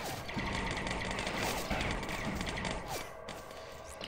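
Rebound bullets fire rapidly in the Droid Assault game, a dense, continuous rattle of quick mechanical shots with scattered sharp impacts at moderate, fairly even loudness.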